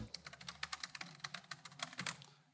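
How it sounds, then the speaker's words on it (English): Fingers type on a laptop keyboard without backlighting, a rapid, irregular run of soft, close key clicks with no talk over it. "There's no backlight on this keyboard, but I really enjoyed the typing experience of it."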